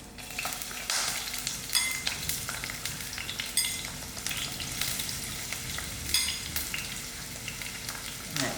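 Onions fry in about a quarter cup of oil in a pot on moderate heat, a close, steady sizzle with bursts of popping and crackling throughout.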